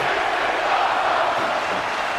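A large rodeo crowd at a Stampede event in Dallas roars in a dense, sustained cheer that stays loud and even throughout, with no single voice standing out.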